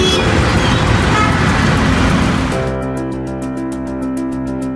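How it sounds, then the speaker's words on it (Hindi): Busy street traffic in Karachi, a dense roar of cars and buses with occasional horn toots, loud and close, easing slightly midway as a steady rhythmic ticking tone rises over the din. "कराची के शोरगुल में"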